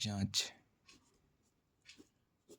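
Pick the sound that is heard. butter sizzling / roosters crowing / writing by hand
writing by hand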